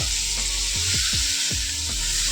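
Masala paste fries steadily in oil in a pan, a loud, continuous close sizzle with faint stirring scrapes running through it.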